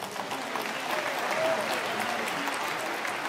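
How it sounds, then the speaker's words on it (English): An audience at an education event gives a sustained round of applause for event staff, steady clapping throughout at moderate volume with no other sound standing out. "Big hand for them, please."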